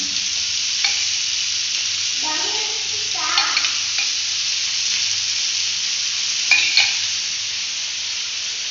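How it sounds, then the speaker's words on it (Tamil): Oil poured into a hot pan on a medium gas flame while cooking a tomato thokku, producing a steady crackling sizzle with a few louder spattering bursts and stirring scrapes nearby. "இப்போ எண்ணெய் ஊற்றிக்கலாம்."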